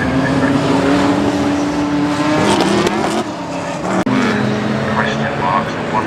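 Classic sports race cars roar along the circuit at Oulton Park, engines loud and close with rising and falling revs and a sharp pass near the middle, while a commentator talks over the racing.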